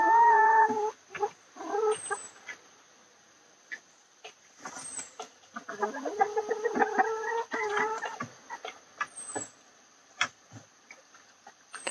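Chickens leaving an Arduino-controlled coop door, with a few clucks and short calls scattered over steady ticking, moderately close, no talk.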